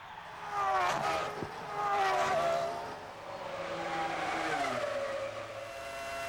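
Formula 1 cars from the 2000 season race past, with a Ferrari overtaking. High-pitched V10 engines scream loud and close, rising and falling as they pass, with shifting pitch and a short burst of tyre noise.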